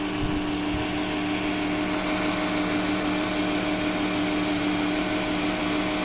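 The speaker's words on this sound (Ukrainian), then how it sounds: "А Моторчик не сапонить, працює тихесенько." A car engine idles steadily and evenly up close, a low smooth hum with a faint whirring tone and a slight light rustle, no talking; the engine of a top-rated car imported from the USA.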